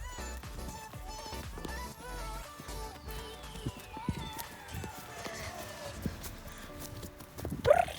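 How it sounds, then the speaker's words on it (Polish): A horse on a first ride galloping with a rider, its hoof beats thudding in a running rhythm under music and a rider's voice. "No to chodź Beverly, pokażemy wszystkim nasz galop."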